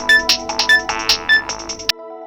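A mobile phone rings with a bright, repeating electronic melody of short pulsed tones, loud and close, cutting off abruptly near the end.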